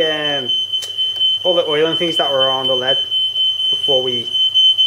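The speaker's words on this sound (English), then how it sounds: "That's my fire alarm, or smoke alarm." A smoke alarm beeps steadily with a high continuous tone while lead is melted to make a race car ballast weight, loud and close under someone talking throughout.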